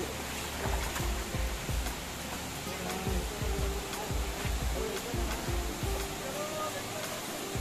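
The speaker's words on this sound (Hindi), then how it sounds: "अभी झरना में काफ़ी अच्छा पानी हो ही" Kumbh Pani waterfall in Gariyaband after rain, a steady broadband rush of falling water close by, with irregular low thumps of wind or handling over the constant roar and no voices.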